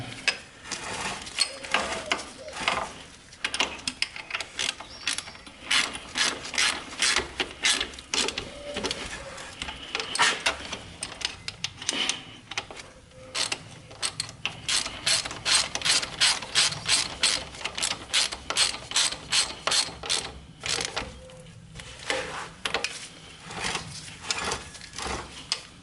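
Steady ratchet clicking as a 17mm socket works a bolt on a Honda TRX300EX Sportrax quad's rear suspension, rapid close-up pawl bursts in irregular strokes with short pauses between them.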